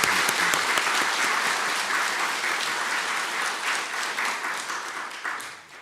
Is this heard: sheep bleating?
no